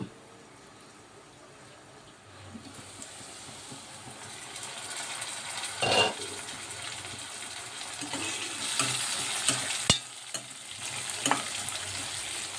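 Onion pieces fry in a pan for Andhra-style dal while being stirred, with a soft sizzle and occasional sharp scrapes and clinks of the spoon against the pan, close up and with no talking.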